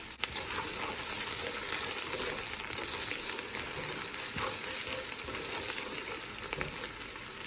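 Whole spices, black cardamom, cloves, a cinnamon stick, bay leaves and black peppercorns, crackling in hot oil for a beef pilau, as a constant close sizzle with scattered tiny pops and clicks.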